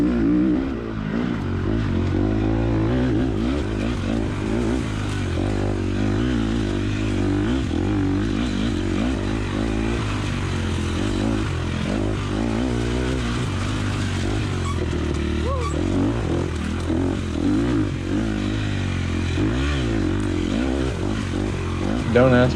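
Dirt bike on a motocross lap at a 2020 Mid-East AA-Expert race at Chestnut Corner, its engine revving hard and steadily near the rider, pitch rising and falling through shifts and throttle changes for the whole stretch.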